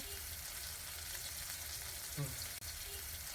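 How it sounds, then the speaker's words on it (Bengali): Chopped tomato with red chilli powder fries in a pan for a ridge gourd chicken curry, making a faint, steady, even sizzle with a couple of small stirring knocks. "এবারে এই কাটা টমেটোটাও দিয়ে দিলাম এটাকে আমি একটু একটু ভেজে নেব"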